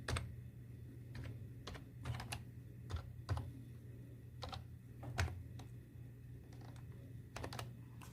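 A computer keyboard clatters with quick, irregular keystrokes while a PAN number is entered into an income tax return form, close and fairly quiet, with small gaps between bursts of typing.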